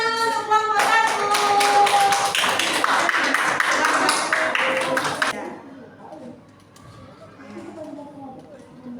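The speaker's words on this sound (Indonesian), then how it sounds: "tepuk tangan dulu untuk kelompok 1" Classroom applause for a student group during a lesson on computational thinking, a dense burst of many hands clapping for about five seconds, then fading into murmuring voices and a teacher talking.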